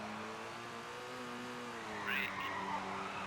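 Car braking hard with a short tyre skid squeal in the PlayStation rally game Colin McRae Rally, during a Rally School driving lesson, the engine droning steadily before a brief screech near the end.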